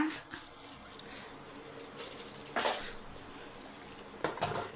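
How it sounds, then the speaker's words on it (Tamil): Drained rice tipped into a cooking pot for mutton biryani gives scattered clinks and a couple of sharp metallic scrapes and knocks against the pot, close and moderately loud, amid quiet kitchen background. "இப்போ வந்து ரைஸை தண்ணி இல்லாமல் சேர்த்துக்கோங்க"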